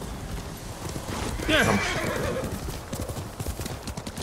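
Horse hooves galloping in Ghost of Tsushima gameplay, a steady rhythmic clip-clop with a whinny partway through, over ambient game sound with someone speaking briefly.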